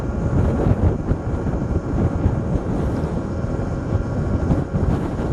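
Gusty wind buffets the microphone during an e-bike ride on a Talaria Sting L1-e, a loud, continuous rumbling roar with no talking.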